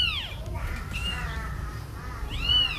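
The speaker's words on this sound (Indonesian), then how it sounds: "ini baby kucing tadi yang nggak gerak, yang kita rekam tadi nggak gerak sama sekali, ini udah gerak dan juga udah bersuara" A newborn kitten, revived after lying motionless, gives several thin high meows in close succession against low background rumble.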